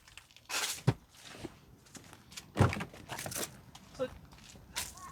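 The rear door of a 2021 Toyota RAV4 Prime being opened, a sequence of clicks, thumps and rustles at close range with brief gaps between handling noises.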